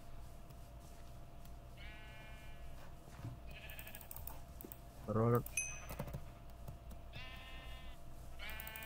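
Blocky Minecraft sheep bleat several times during a party-games match, their short wavering cries spaced apart among game sound effects, with a player talking over them.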